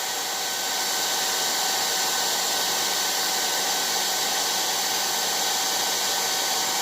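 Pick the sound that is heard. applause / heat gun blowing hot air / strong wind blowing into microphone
heat gun blowing hot air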